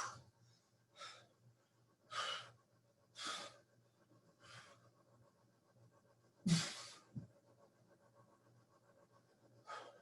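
Heavy breaths after a bootcamp workout come in short, separate bursts spaced a second or two apart, faint and close, with near silence between them.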